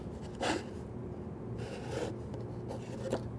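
A pencil marks a layout line on a wooden board in a woodworking shop, making a few faint, short scratchy strokes separated by quiet pauses.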